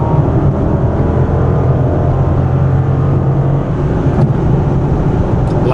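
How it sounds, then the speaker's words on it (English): A 2013 Dodge Charger SRT8 engine rumbles loud and steady from inside the car as it pulls out to pass, a continuous low drone with no speech. "Another advantage is the engine power, allowing you to pass if you're in a big hurry."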